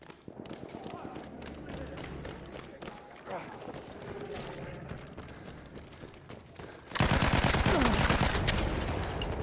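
Machine gun fire in the Battlefield 1 video game: rapid, repeated shots under battle noise and voices, swelling into a loud, sustained burst of fire near the end.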